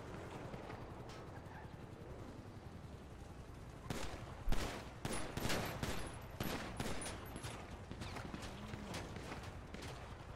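Gunfire in a District 10 roleplay video game bursts out in a loud flurry of rapid shots midway through, then continues as scattered cracks over a low, noisy background.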